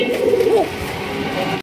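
Close, loud cooing from an Arabian cock pigeon, a deep warbling phrase that rises and falls before settling into a steady murmur.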